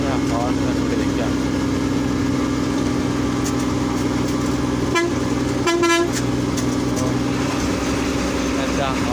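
Horn toots from a truck sound over a steady idling engine rumble, with two brief horn blasts standing out midway while people talk nearby.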